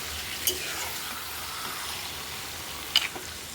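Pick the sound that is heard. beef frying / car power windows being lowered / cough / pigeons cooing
beef frying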